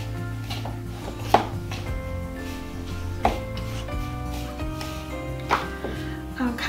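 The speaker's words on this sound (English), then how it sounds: "you just keep mixing this up till you get your crumbles formed" Spoon scraping and clacking in a bowl as dump cake batter is stirred into crumbles, repeated knocks over a steady hum, with faint talk in the background.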